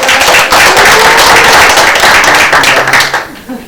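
An audience at a regional cultural governance conference session claps to welcome a speaker to the stage: dense, loud, continuous applause that holds steady for about three seconds and then thins out and fades.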